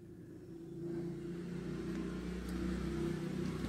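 A broken-down car towed along a road by another vehicle gives a continuous low engine rumble with road noise, steady and moderately close, building slightly toward the end, with no talking.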